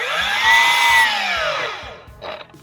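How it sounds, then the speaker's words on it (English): A power saw cuts timber for a stair landing joist, a loud whine that rises and then falls away over about two seconds, followed by a short, quieter burst. "I now need to cut two pieces as the joist for the landing"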